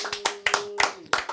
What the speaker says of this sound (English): We've got to do a T4 clap because it is it's our birthday.